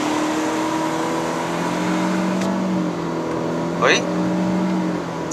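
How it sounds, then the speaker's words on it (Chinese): 2022 Proton Persona 1.6 Standard CVT car accelerating at full throttle in Malaysia, with a steady droning engine note and rising road noise heard from inside the cabin, and a brief voice partway through. "试一下0到100，踩完。"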